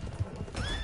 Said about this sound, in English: Who's that horse? In the middle of the road.